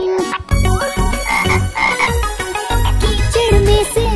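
Frog croaks, part of a Hindi children's rain song about a frog coming out of the mud, repeat in a quick, bouncy rhythm over bright music, loud and up front with no talking.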